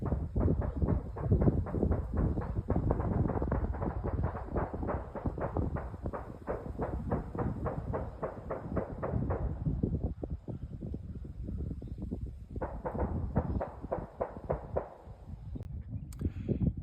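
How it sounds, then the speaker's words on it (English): Gunfire from a shooting range in Henderson County, North Carolina, heard as a long, rapid string of sharp reports in steady rhythm, pausing briefly and then resuming, loud and close. "Would you like to know what gun noise sounds like from a shooting range?"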